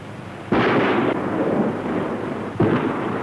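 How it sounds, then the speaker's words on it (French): Quarry blasting charges go off during construction of the Sarrans dam, two loud, booming bursts about two seconds apart, each followed by a rumbling roar that gradually fades. "Observons sans danger l'effet des explosions."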